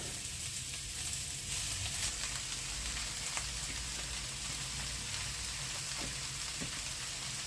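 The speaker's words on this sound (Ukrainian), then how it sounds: "щоб вона вже шкварчала." Shredded cabbage sizzles steadily in hot oil in a frying pan, giving a constant close crackling hiss with faint stirring clicks and no speech.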